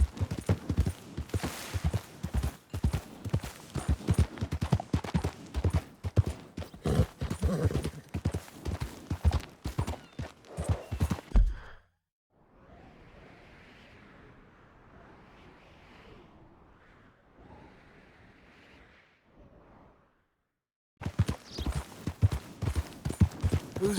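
Rapid, steady horse hoofbeats clip-clop for about twelve seconds in Red Dead Redemption 2, then fall silent behind a softer ambient stretch before the galloping resumes.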